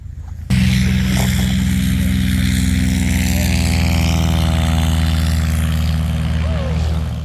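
A hot air balloon burner starts abruptly with a loud, steady roaring blast, holding for several seconds as a deep continuous rumble, easing slightly at the end.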